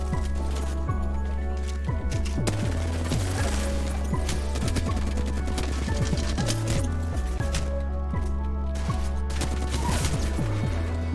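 Rapid, dense video game gunfire rattles continuously and loudly, bursts overlapping with impact and clatter sounds and a low rumbling bed throughout.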